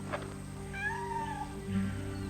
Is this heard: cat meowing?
yes